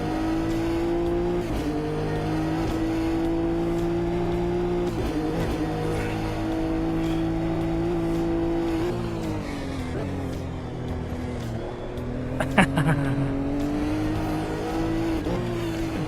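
Race car engine in a racing video game holds a steady whine, easing off under braking and then climbing again as it accelerates, with a short tire squeal late on.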